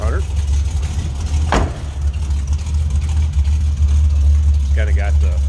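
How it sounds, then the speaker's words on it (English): The 400 V8 of a 1976 Dodge Power Wagon 200, with exhaust dumps ahead of the rear axle, idles close by in a deep, steady, low and throaty rumble, with a brief whoosh partway through and a voice near the end. "You can hear a little rumble coming out of that 400."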